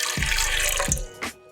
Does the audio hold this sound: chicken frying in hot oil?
no